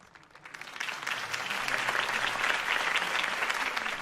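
A crowd applauds steadily in the Telltale Batman video game, the clapping swelling quickly and holding at an even level throughout, dense and fairly distant, with no talking.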